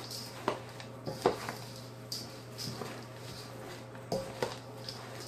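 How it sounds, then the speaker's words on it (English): Granola mixture stirred in a bowl with a utensil, soft scraping and occasional light clinks in an uneven rhythm over a steady low hum, close and moderately quiet. "I'm going to get to stirring"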